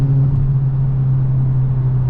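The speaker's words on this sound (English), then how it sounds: "oh, just that downshift" Tuned VW Golf GTI Mk8 engine holding a steady, loud, close droning hum through a downshift, with no audible pops or crackles standing out.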